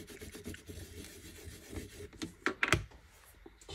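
A cloth wipes and rubs a scrapbooking craft surface in quick strokes, ending in a few sharper, louder scrubbing swipes close by.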